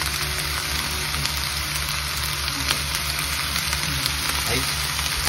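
Frozen bulgogi meat frying in a pan gives a steady, dense sizzle throughout, close and even in level, with no talk over it.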